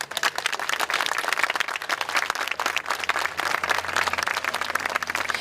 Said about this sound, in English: I would like to give our readers a hearty round of applause.